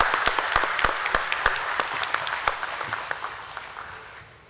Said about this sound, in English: A nice big round of applause, ladies and gentlemen, for Srimati Parminder Chopra.